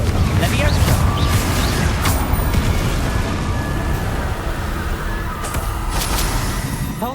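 Confringo fire-blast spell exploding in Hogwarts Legacy, a steady roar of booming bursts with sharp cracks near 2 and 5.5 seconds amid dense game sound.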